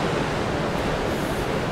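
Ocean surf at the Pipeline break rushes in a dense, steady wash of broadband noise, loud and continuous without distinct individual crashes, with no voices.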